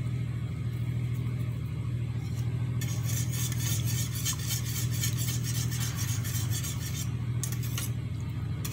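A spoon scrapes and stirs white sauce with cheese in a pot for baked lasagna, a steady rasping rhythm with a constant low hum behind it.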